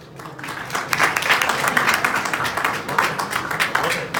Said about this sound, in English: Big applause for Victoria.